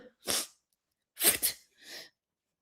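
A dog sneezes or huffs three times in quick bursts, close and fairly loud, with silence between each.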